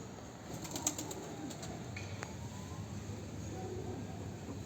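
Soft pigeon cooing comes from a distance over steady outdoor background noise at a poultry coop, with a few faint bird calls mixed in.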